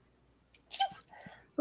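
A single sneeze during a tabletop role-playing session, a brief sharp burst following a soft intake, fairly close and moderately loud against a quiet room.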